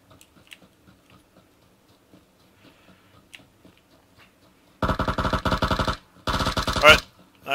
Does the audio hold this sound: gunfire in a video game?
yes